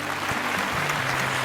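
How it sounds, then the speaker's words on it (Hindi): A studio audience applauds on a televised carols singing reality show. The clapping is brisk and fairly loud, with a faint tonal hum of music or sound system underneath. "भाई हो जाए जोरदार तालियां।"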